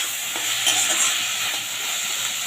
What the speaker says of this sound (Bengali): খুব ভালো করে এবার কষিয়ে নেবো, যতক্ষণ না আলুটা আমার পুরোটা সিদ্ধ হয়ে গেছে।